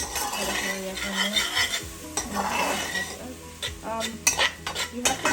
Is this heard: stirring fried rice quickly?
yes